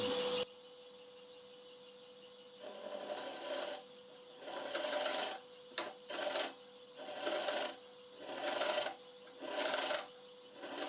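A turning tool cuts the inside of a maple burl and padauk bowl on a lathe, giving about six close, rasping scraping bursts separated by short pauses over a steady motor hum, with no talking.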